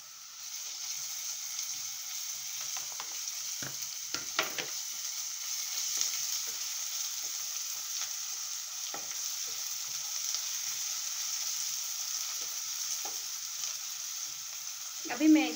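Steady sizzling and crackling of ginger garlic paste frying in a hot pan, with occasional stirring scrapes and a soft clatter near the end.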